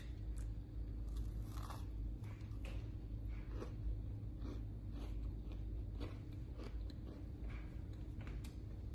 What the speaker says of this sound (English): These cookies actually came out with like a pretty good crunch.